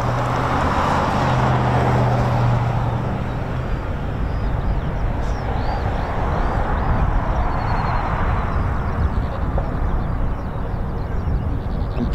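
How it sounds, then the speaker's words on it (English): A 1967 Ford Mustang Shelby GT500 engine rumbling as the car passes near an air base, a loud continuous roar that swells and fades over the whole stretch, with distant aircraft and road noise blended in. "I'm pretty sure that was 67 Mustang Shelby."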